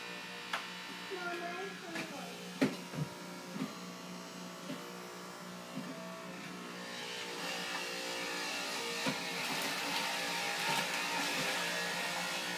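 A Fusion juicer motor hums and buzzes steadily while juicing apples, with clunks early on and a rising strained whine as the blade clogs, under a person's occasional talk.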